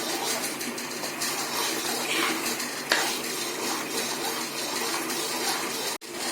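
Gram flour (besan) being stirred and roasted in a pan for laddoos, giving a steady, close scraping and sizzling texture throughout, with one sharp utensil knock midway and a brief clack near the end.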